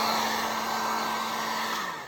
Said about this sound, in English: this is actually a heat gun, but you can use a regular blow dryer